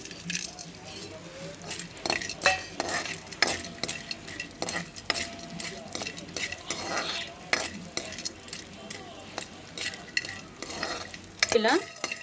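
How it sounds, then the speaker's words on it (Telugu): Edible gum (gond) frying in a pan for dry fruit laddu, with repeated stirring and scraping clatter of a spoon against the pan over a soft sizzle, close and moderately loud, with no talking. "కొంచెం వేడయ్యాక ముందుగా గోందును వేయించి పక్కకు పెట్టుకుందాం."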